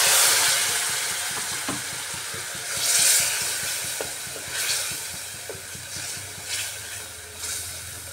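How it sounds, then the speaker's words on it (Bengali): Fried masala stirred with added water in a kadai, a continuous wet sizzle and hiss with repeated scraping strokes of the spoon at an irregular rhythm, close and fairly loud with no voices. "জল দিয়ে এবার মশলাটাকে ভালো করে আমি জলের সাথে মিশিয়ে নিচ্ছি"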